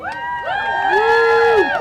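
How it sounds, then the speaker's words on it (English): A rally crowd at a No Kings rally in Sylva, North Carolina, cheers loudly, with high whoops and shouts rising over a steady roar for about two seconds. "Let's give a big hand for Selma."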